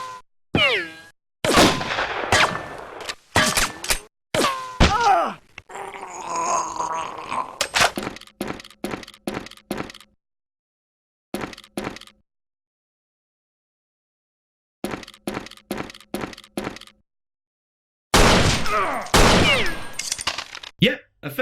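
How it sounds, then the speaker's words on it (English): Rapid bursts of toy-style gunfire from a low-quality stop motion animation of two collectible action figurines shooting at each other, coming in clustered volleys separated by silent gaps, with some vocal-like noises mixed in. "a fairly low quality stop motion animation of 2 collectible action figurines shooting at each other"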